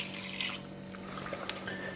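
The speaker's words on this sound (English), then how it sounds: "And then I will add my 400 milliliters of red wine." Red wine is poured into a cooking pot for a sour roast marinade, a soft liquid trickle and splash over a faint hum, close, ending in a sharper clink.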